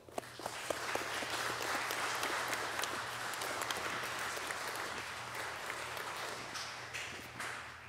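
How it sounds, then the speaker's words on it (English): A church congregation applauds during a worship service, steady sustained clapping filling the room for the whole stretch with a low hum beneath it. "A round of applause."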